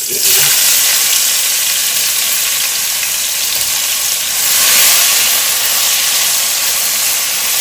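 Chopped onions dropped into hot oil in a frying pan that has just crisped another ingredient give a steady, loud broadband sizzle and hiss that holds for several seconds, swelling briefly midway.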